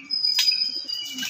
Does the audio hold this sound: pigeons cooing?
yes